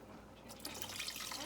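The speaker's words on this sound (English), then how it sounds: "I'm gonna pour in the water." Water pours steadily into a pot, a splashy liquid rush that starts partway through after a quiet moment, close and moderately loud.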